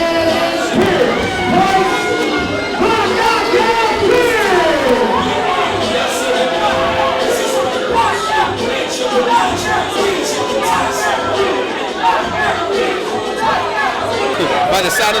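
A large crowd at a professional wrestling event roars and chatters continuously and loudly as tag-team wrestlers from Amarillo, Texas are introduced, a dense, steady wall of cheering and murmur.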